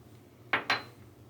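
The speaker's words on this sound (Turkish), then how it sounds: "Ben çatalla devam ediyorum karıştırmaya." A fork clinks twice against a bowl while stirring a homemade hand-care mixture with olive oil, two quick close metallic taps over quiet room tone.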